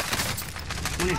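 Rapid gunfire rattles in Call of Duty: Modern Warfare, a dense, loud burst of repeated shots running throughout with voices faintly mixed in.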